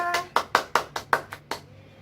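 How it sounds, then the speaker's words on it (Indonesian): About eight crisp, evenly spaced handclaps in a classroom for Nina and Risa, close and clear, too few and too regular to sound like a crowd. "Beri tepuk tangan semuanya untuk Nina dan Risa."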